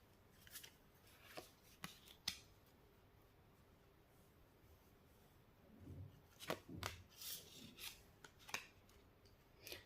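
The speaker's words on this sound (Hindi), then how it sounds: "कार्ड निकाल लेती हूँ।" A card is drawn from a tarot deck, with faint, close paper slides, rubs and light taps that come in short scattered bursts over a quiet room.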